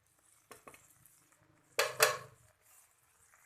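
Chicken tikka pieces on a tawa get turned with a metal utensil: a few light taps, then two loud scraping clatters against the pan over a faint background, with no one speaking.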